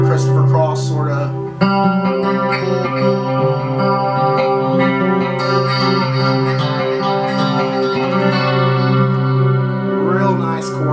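Electric guitar run through a chorus effect on an Evans amp, playing clean sustained chords and notes with a shimmering, swirling tone, steady and close throughout.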